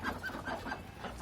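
Chickens cluck in short repeated calls close by in a rooftop garden where ducks are also kept, over a soft, steady background.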